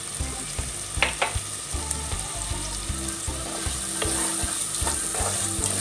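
Melon cucumber pieces and dry fish fry in a pan with salt and turmeric, a steady close sizzle broken by repeated clacks and scrapes of a stirring spoon, with no voices.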